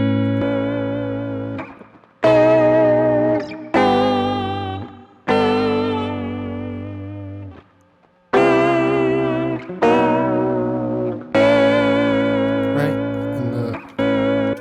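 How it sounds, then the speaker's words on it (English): Electric guitar chords played through a warbly, wobbling lo-fi cassette tape effect in Ableton, pitch wavering and saturated, several sustained strums separated by short gaps. "It's giving it more like a lo-fi tape, screwed up tape sound."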